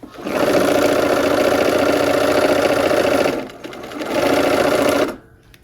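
Sewing machine running quarter-inch seams on quilt pieces, a loud close buzzing stretch, a short dip, another burst, then it stops, no talking.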